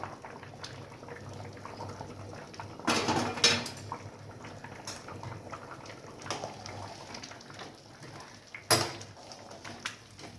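A metal lid is lifted off a pot of sona moong dal khichuri simmering on the stove, giving two short clattering clanks over a soft, steady bubbling.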